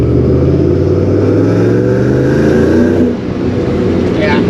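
A Procharged Ford Mustang GT engine revs and holds at high rpm, a loud steady roar that eases back slightly near the end while a person speaks over it.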